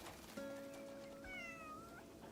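A faint, thin meow from a skinny cat in a cozy lo-fi video game, one drawn-out cry with a slight upward bend, set over a soft steady background hum.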